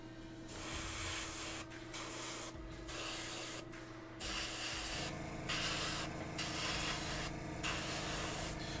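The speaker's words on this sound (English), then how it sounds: "So I'm spraying from the top down as I build up the highlights." An airbrush sprays paint down from the top of a Reaper miniature figure in a series of close hissing bursts, each lasting a second or more, with short pauses between them and a steady hum of the compressor running underneath.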